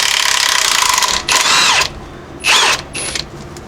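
An impact wrench zips out 18mm transmission bolts on a Jeep Cherokee XJ, with a loud buzzing run followed by two or three short, sharp bursts of high whining hammering close by.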